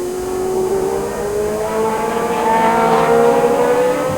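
A historic Williams FW06 Formula 1 race car at speed on a circuit, a loud, sustained, high engine note rising steadily in pitch as it accelerates.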